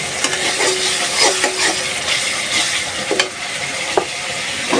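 Vegetable stalks sizzle and fry in a spiced fish curry with katla fish, a steady crackling hiss punctuated by repeated scraping strokes of a spatula stirring the pan, loud and close.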